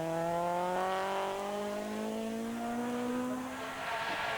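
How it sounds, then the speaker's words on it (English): A high-revving Honda rally car engine revs high, its pitch climbing steadily as it accelerates, heard from a moderate distance without talk, at the 1997 Jersey Rally. "the high revving Honda"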